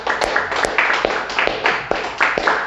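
A church congregation claps together in a steady, dense patter of applause, with a few sharper individual claps standing out.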